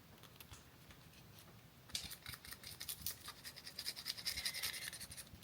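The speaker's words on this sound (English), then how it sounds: "I'm going to take the scissors to it again." Scissors snip and scrape through plastic packaging from a beauty subscription box, a quiet run of crisp cuts and crinkles that grows busier and louder after the first couple of seconds, with no talking.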